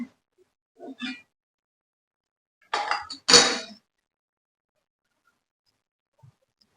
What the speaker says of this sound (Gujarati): ફરી તપેલી આપણે રાખી દેશું.